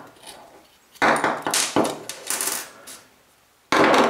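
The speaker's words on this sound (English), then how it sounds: "get a Q-tip here to push out this firing pin retaining pin" Pushing out the firing pin retaining pin of a Colt 6450 9mm carbine with a Q-tip: close, sharp metallic clicks and scraping knocks in uneven bursts, with quiet gaps between them.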